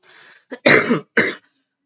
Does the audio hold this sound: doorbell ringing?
no